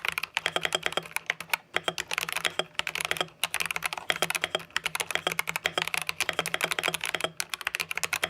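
Rapid typing on a pre-modded mechanical keyboard fitted with Gateron optical linear switches, crisp clacks in quick irregular bursts, close and fairly quiet, with no voices.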